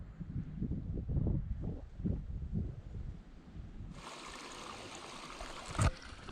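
A mountain stream trickles softly while water is being filtered, a steady gentle wash that turns brighter and hissier halfway through, with a sharp knock near the end.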